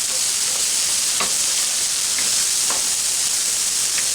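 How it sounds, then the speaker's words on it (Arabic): Large white onion sizzles steadily in hot oil, a constant close frying hiss broken by a few faint stirring clicks. "ونديروا فيها شويه ديال الزيت سخون بدا دقائق، كنزيدوا عليها البصله ديالنا، بصله بيضاء دا كبيره مشلضه، وكنحركوها"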